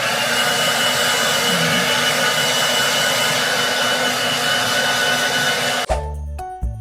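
A Dyson hair dryer blows loudly and steadily for about six seconds, then cuts off abruptly, leaving a few faint clicks.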